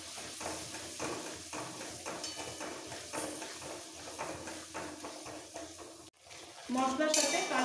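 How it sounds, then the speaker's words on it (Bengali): Spiced spinach paste stirred and fried in a pan for paneer, a steady, close sizzle with repeated scraping strokes, getting louder and hissier toward the end. "মশলার সাথে পালং পাতা বাটাটা ভালো করে কষিয়ে নেব।"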